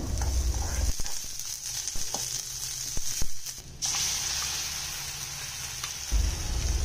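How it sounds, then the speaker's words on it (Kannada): Onions and masala fry in a pan for a radish (mullangi) pachadi, giving a steady close sizzle with scattered clicks and spoon scrapes, a short louder burst partway through, and no voices. "ಈರುಳ್ಳಿ ಫ್ರೈ ಆದಮೇಲೆ ಈಗ ಇದಕ್ಕೆ ಮಸಾಲಾನ ಆ್ಯಡ್ ಮಾಡೋಣ।"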